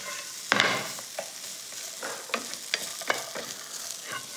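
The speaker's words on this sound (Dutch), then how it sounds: "Als je met noten kookt, moet je die trouwens altijd even bakken." Nuts roast and sizzle in a pan with a steady frying hiss, punctuated by irregular scraping and clinking as they are stirred.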